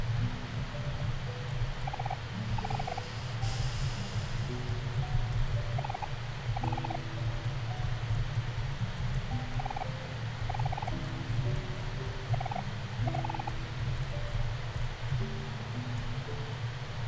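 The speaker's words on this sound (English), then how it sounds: "Shut up, birds." Birds squawk in the OMORI video game, short gobbling calls repeating in loose clusters over a steady low rumbling drone. No one speaks.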